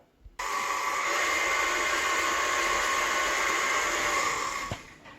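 An electric hand mixer whirs through trifle batter made from scratch, a loud, steady whine that starts abruptly, holds for about four seconds and then cuts off, with no talking.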